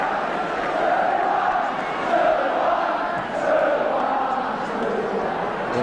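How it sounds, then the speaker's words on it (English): A football crowd at a 1978/79 Arsenal v Ipswich Division One match chants the 2-1 score, a steady, dense roar of many voices sustained throughout with a slight dip midway. "Inevitable cry from the crowd of 2-1"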